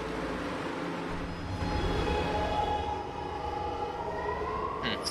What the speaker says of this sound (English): This is a 125th Street bound R train.